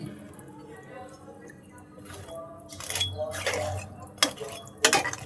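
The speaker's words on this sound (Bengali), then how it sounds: "এখন পিঠাগুলো দিয়ে দিচ্ছি শিরার ভিতরে সব পিঠাগুলো দিয়ে দিচ্ছি" Palm fruit fritters are dropped one after another into sugar syrup in a pot, giving soft splashes and clinks of utensil against metal, with a few sharper knocks near the end.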